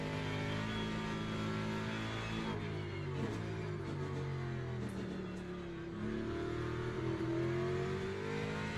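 GT3 race car on a wet track in Le Mans Ultimate, its engine holding a steady, harmonically rich drone with gentle pitch swells and dips as the throttle shifts, continuous and fairly close.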